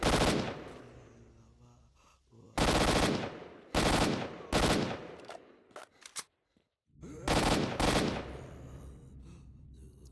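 Gunfire in the video game STALKER: Shadow of Chernobyl comes as several loud, close automatic bursts separated by short pauses, with a few single shots between them.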